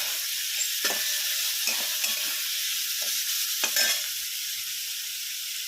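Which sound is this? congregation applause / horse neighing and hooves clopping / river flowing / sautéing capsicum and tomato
sautéing capsicum and tomato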